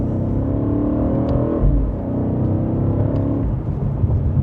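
A 2025 BMW M8 Competition Gran Coupe accelerating in sport mode in second gear gives a deep, steady engine drone heard from inside the cabin that climbs in pitch, with a brief dip partway through and no talking.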